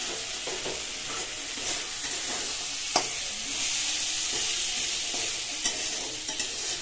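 Spices crackle and sizzle in hot oil for a bata fish curry while being stirred. The hiss is continuous and moderately loud, with scattered sharp pops and scraping stirs and no talking.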